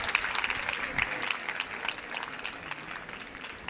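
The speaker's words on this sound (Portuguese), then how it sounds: "yo voy a pedir un aplauso para Miguel, que es un incondicional nuestro" Audience applause at the Festas da Peregrina, a festival concert of bagpipe music, comes as a short burst of dense clapping from a crowd, fairly close and steady before easing slightly.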